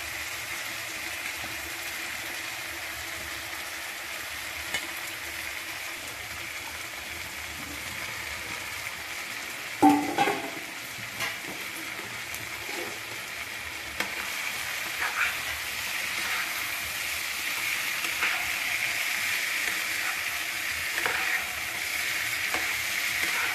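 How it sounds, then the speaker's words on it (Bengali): Boiled young jackfruit and potato being stirred into spice paste in a pan, with a steady sizzle of frying throughout and occasional louder scraping stirs, close and alone. "এইভাবে নেড়ে চেড়ে ভালোভাবে ঢাকিয়ে দেব"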